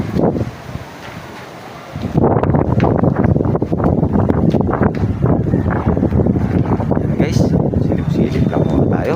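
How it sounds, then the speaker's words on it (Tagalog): Strong typhoon wind buffets a microphone at a building site after hollow-block siding work, a loud, rough, gusting roar, with talking under it. "lakas ng hangin."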